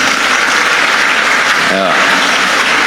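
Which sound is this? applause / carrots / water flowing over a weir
applause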